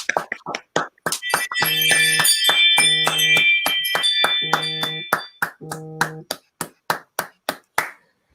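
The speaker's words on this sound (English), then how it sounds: "It's the 8 o'clock clap for the NHS." At the 8 o'clock clap for the NHS, neighbours clap in sharp bursts while bells ring and clang through the middle, with a few scattered claps trailing off at the end.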